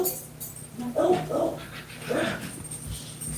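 Dogs pant and whimper nearby in a few soft, breathy bursts over a faint background hum.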